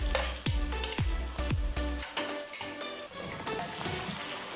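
Tomatoes frying in a pan, a close steady sizzle with a few sharp scraping stirs and clacks near the start, continuous and fairly loud.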